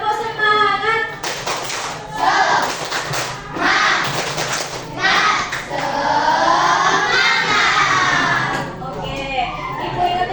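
Schoolchildren in a classroom do the tepuk semangat clapping chant, bursts of rhythmic group clapping mixed with loud chanting voices, repeated in several rounds.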